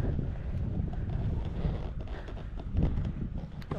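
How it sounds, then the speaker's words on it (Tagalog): Strong wind buffets the microphone outdoors, a loud continuous low rumble with gusty surges throughout. "Lakas ng hangin."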